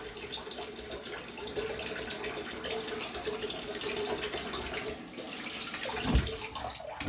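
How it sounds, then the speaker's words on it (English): Steady running water from a tap rinsing a safety razor, a constant hiss with small splashes as the razor passes under the stream, close and without talk. "let's rinse this off."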